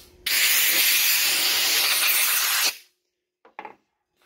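Air blow gun blasting dust off sanded body filler on a Nissan Pathfinder rear door, one steady loud hiss of about two and a half seconds, then two short quieter puffs.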